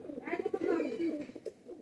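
Pigeons coo close by in a loft, giving a soft burst of throaty, rolling pulses that swell and fade, with light shuffling noises around them.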